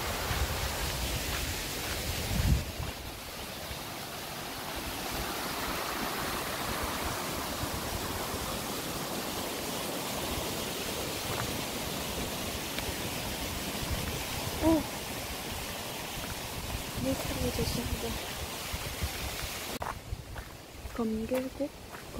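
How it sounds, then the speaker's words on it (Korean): Steady, fairly faint rush of a mountain valley stream running high, continuous broadband water noise with a few brief knocks and rustles near the end. "물이 많이 흐르고 있다는 것입니다"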